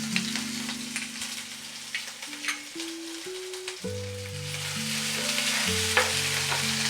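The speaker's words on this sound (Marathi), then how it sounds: "तर एक साईडला आपण इथे हिरवी मिरची टाकून घेऊ।" Green chillies sizzle and crackle in hot oil in a pan while paneer bhurji is being cooked. The frying is steady and close, with faint tonal music playing underneath.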